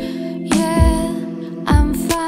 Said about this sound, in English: maybe like the pitch down delay throw, which sounds like this